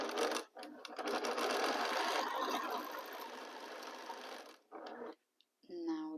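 Sewing machine joining quilt pieces at matched corners, a steady dense mechanical whir running for about four seconds, then stopping, followed by brief fabric handling and a short spoken remark at the end.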